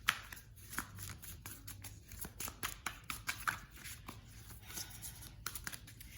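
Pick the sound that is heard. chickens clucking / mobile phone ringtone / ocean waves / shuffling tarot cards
shuffling tarot cards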